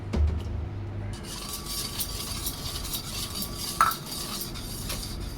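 Solkadi mixture being stirred in a bowl, a spoon clinking and scraping against the sides with a soft steady swish, plus one sharper knock near the end; close and fairly quiet.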